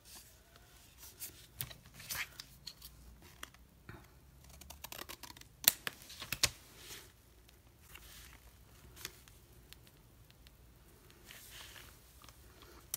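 Scissors snip through a paper planner sticker, quiet close cuts and scattered small clicks and rustles of paper spread across a hushed stretch, with one sharper snap near the middle.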